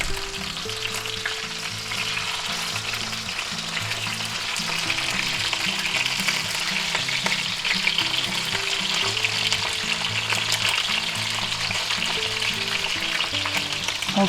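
Thick boneless pork chops fry in a cast iron skillet with a loud, continuous sizzle that holds steady and close throughout, with no one talking.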